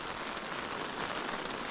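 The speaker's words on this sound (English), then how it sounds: "It's raining out there." Rain falls steadily outside a tent in the mountains, a soft, even hiss of drops drumming on the fabric with no voices, quiet and constant throughout.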